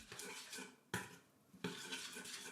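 Quick stirring of a soy-based yogurt sauce with chopped parsley, dill, salt, pepper and lemon, a steady close scraping swirl broken by two sharp clinks of utensil against the bowl.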